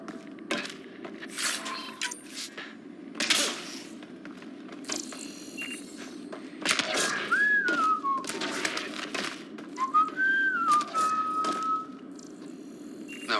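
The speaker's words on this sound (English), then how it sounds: "whistling." A person whistles a few short gliding phrases, fairly faint, among scattered thumps and knocks in a quiet room.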